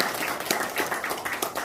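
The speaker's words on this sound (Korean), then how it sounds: "우리 이 모든 분들을 위해서 한번 다 같이 박수하시겠습니다" Attendees at a village community council gathering clap together, a fairly quiet patter of many hands with no voices over it.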